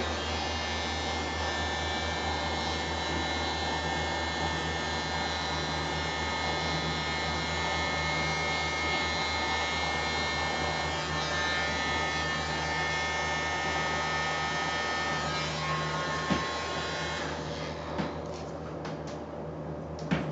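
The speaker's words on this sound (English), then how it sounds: "I'll try the blower." A blower pushing paint across a pour painting gives a close, steady buzzing hum that runs evenly and alone, with a few small knocks near the end.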